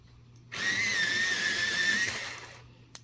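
Colored pencil sharpened in a sharpener, a steady whirring grind of about one and a half seconds that starts abruptly and tapers off, close and moderately loud, with a small click just after.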